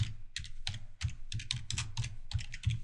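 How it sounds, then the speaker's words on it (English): Computer keyboard typing, a close, steady run of quick key clicks in short irregular bursts. "You just simply go to Google and you type in Google"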